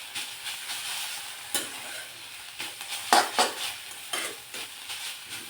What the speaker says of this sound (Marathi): आता हे पुन्हा एकदा मिक्स करून घेणार आहोत